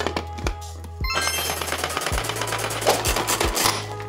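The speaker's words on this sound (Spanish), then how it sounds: "Y vamos a picar primero el cebollino." A food processor chops chives for a sauce in quick pulses. Sharp thuds and blade clatter come at irregular intervals, then settle into a dense, continuous whirring rattle, loud and close with no talking.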